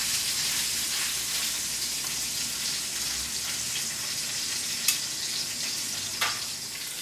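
A porterhouse steak sears in a hot pan, giving a steady broadband sizzle that holds evenly throughout, with a couple of sharp brief crackles near the end and no voices.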